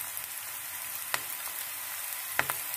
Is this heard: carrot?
yes